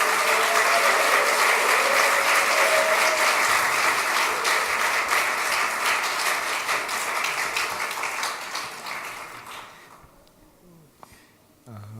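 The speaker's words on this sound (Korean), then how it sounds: "박수로 환영해 주십시오." Church congregation applauding to welcome the pastor at a Friday evening worship service, sustained loud clapping that gradually fades out over the last few seconds, leaving near quiet.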